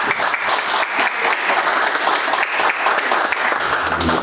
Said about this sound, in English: I guess we deserve a round of applause